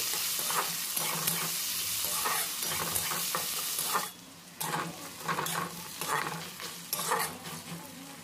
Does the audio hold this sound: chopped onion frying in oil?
yes